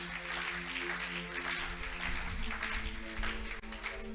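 Congregation applauding during a church service, a steady dense wash of clapping that holds throughout, with a sustained organ or keyboard tone beneath it.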